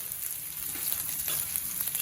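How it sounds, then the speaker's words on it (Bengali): Cumin, ginger and green chili stir-fry in a pan, a quiet steady sizzle with soft scraping of the stirring utensil, no voices. "জিরে, আদা, কাঁচা লঙ্কা, দিয়ে নেড়ে নেওয়া হচ্ছে।"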